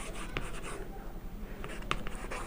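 A pen or marker writes by hand during a grammar lesson, giving soft, close scratching strokes in short bursts over low background hum.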